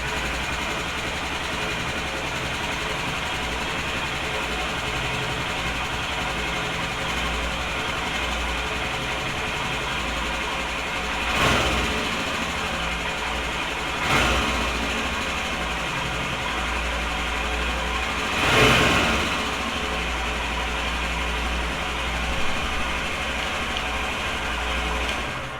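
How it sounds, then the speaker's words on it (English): A Royal Enfield Himalayan motorcycle engine idles steadily and fairly loud, with a constant low rumble and a few brief surges of revving along the way. "Turn the key on, trying the motorcycle."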